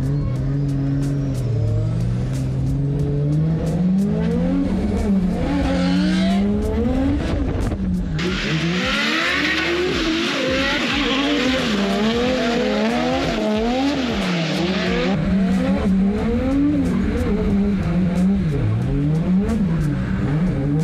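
Drift cars battling in the final round of a drift competition, engines revving hard and bouncing through gears with tire squeal, loud and continuous throughout.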